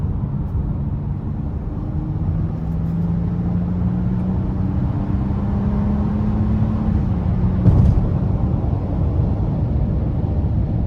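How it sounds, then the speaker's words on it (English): A 2023 Honda Odyssey minivan with a 3.5-liter engine and 10-speed transmission accelerates onto an interstate in sport mode, heard from inside the cabin as a steady engine hum under road and wind noise, with rising tones as it shifts. "I'm gonna give it just a bit of throttle getting on the interstate before I put it into economy."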